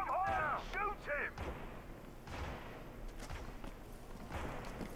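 Gunfire in the Hitman video game, loud booming shots and impacts layered with game voices speaking, the blasts spaced irregularly over the scene.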